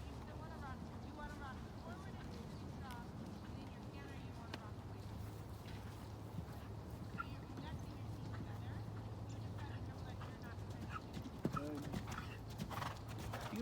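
A ridden horse walks with a steady clip-clop of hooves, close and continuous, with occasional snorts and wind buffeting the microphone while a rider talks over it.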